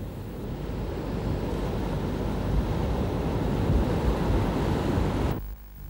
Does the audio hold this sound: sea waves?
yes